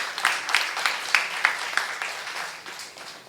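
A church congregation at a Korean youth sermon claps together in a brisk, steady rhythm, with about ten sharp, even beats filling the hall before the clapping gradually softens.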